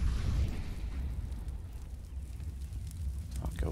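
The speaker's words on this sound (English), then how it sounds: "Decides just to fall back and pull his incendiary out and buy himself some time" An incendiary grenade burning in a Counter-Strike match, a low roaring whoosh of flames that swells, fades and flares again, with a few sharp crackles near the end, moderately close.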